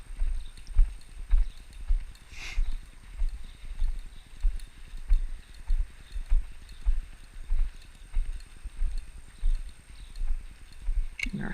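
A horse lopes on a right lead, its hooves striking the ground in a steady three-beat rhythm that repeats throughout, moderately close with light background noise.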